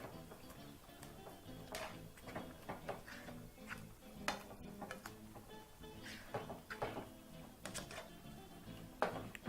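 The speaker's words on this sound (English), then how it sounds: "And using a spoon, proceed to mix through." A spoon stirs and scrapes through beans and fresh parsley in a pot or bowl, giving a run of close, irregular clinks and taps with soft mushy shuffling in between.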